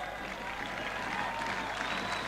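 Crowd applause during a 1990 Mulhouse versus Real Madrid basketball game, a steady dense clapping from a large arena audience lasting throughout, with a commentator talking over it.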